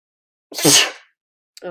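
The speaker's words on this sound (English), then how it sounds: "Sneeze, sorry, excuse me." A single sharp, loud sneeze up close during a lecture, followed by a short pause and the start of a voice.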